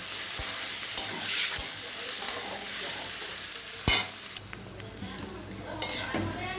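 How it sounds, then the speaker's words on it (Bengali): Spices frying in a pan for egg ghugni, with a steady loud sizzle under repeated spatula stirring and scraping, plus a few sharp clicks against the pan. "মশলা ছেড়ে ভালো করে কষিয়ে নেব।"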